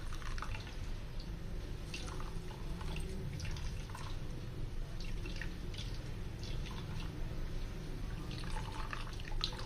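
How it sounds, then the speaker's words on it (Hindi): Water squeezed by hand from chopped onions drips and trickles into a bowl in a kitchen, a close, steady patter of small drips and splashes over a soft background hiss. "पानी जो है वो आपने अच्छी तरह प्याज़ों के अंदर से निकालना है।"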